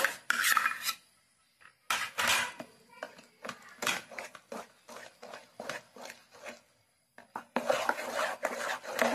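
Palm fruit pulp being mixed into a thick batter for Bengali tal pitha, with repeated scraping and rubbing strokes of a spoon against a bowl, close and clear, in short bursts separated by brief pauses.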